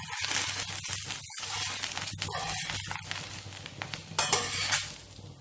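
Rava dosa cooks on a hot pan with a continuous close sizzle, broken by scraping and tapping from a spatula, with no voices.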